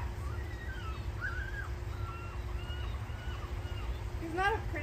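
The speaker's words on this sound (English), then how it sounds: "Isn't that a pretty sound? The birds." Birds chirp and tweet with short repeated calls through a steady low background rumble, brief bright trills rising near the end.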